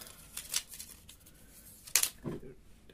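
Scissors cutting camera film for loading an old Leica or a Russian Leica copy: a few quiet, crisp snips spaced apart, with soft handling noise in between.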